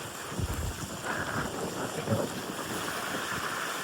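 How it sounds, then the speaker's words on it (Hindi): Very heavy rain, a steady dense hiss with gusty rumbling bursts, close and continuous, with no voices. "बहुत तेज हो बारिश"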